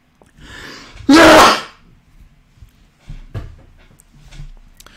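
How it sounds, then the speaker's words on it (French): A single loud sneeze bursts out, close and sharp, followed by quieter breathing and small rustling sounds. "Attention, je vais éternuer."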